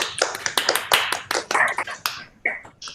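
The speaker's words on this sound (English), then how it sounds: "please unmute themselves and just give a warm round of applause" Scattered handclaps from an online meeting's audience, irregular sharp taps of uneven loudness over about three seconds, thin and compressed as if through call microphones.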